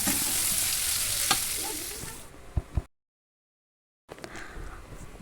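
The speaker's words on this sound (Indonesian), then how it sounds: "Setelah bumbunya matang, masukkan potongan tetelan tadi. Ini diaduk sampai dia tuh meresap." Beef tetelan is stirred and fried in cooked spice paste for Betawi goreng arab, a loud steady sizzle with scraping stirs and a couple of sharp knocks, then a brief silence before sizzling resumes.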